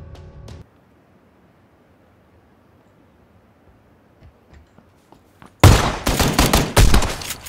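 PUBG gunfire ends the clip in a loud, dense burst of rapid shots after a long near-silent stretch that holds a few faint ticks.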